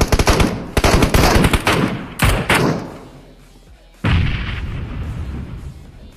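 Loud, close MK rifle gunfire in an esports video game match, rapid bursts and single cracks with heavy thuds, then quieter gaps and a renewed rumble.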